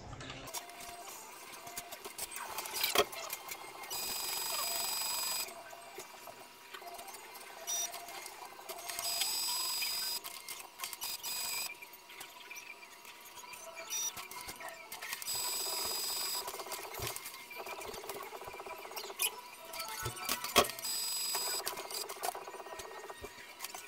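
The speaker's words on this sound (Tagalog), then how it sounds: "Isang head clean tayo ha." An Epson L1800 printer runs a printhead cleaning cycle, cycling through several bursts of high whirring and buzzing motor noise separated by quieter mechanical clicks and pauses, heard close and fairly faint.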